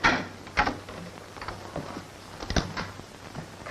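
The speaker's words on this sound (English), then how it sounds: "All right, Marvy, open the door." A door is opened in an old Western setting with a short run of mechanical clicks, knocks and a creak from the latch and hinges, fairly close.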